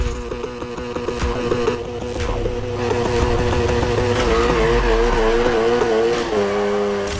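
In the Need For Speed Heat video game, a car's engine revs hard and holds high as it accelerates and slides into a drift, tires squealing continuously over the close, loud, rising engine whine.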